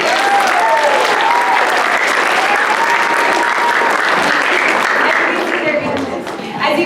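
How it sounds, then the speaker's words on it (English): Audience at a high school theater matinee applauding, a loud, continuous roar of clapping with cheers and voices, fading slightly near the end. "So one more round of applause."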